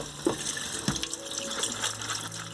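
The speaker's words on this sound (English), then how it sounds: "I'm going to rinse it under cold running water" Cold tap water runs steadily over soaked dry black beans in a sink, a continuous gentle rushing stream with a couple of brief splashy surges, close by and alone.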